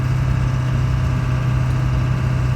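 A steady, deep drone from a 2000 Ford 7.3 Powerstroke diesel truck engine with injector dropout runs unbroken at moderate loudness, with a low throbbing hum and no voices.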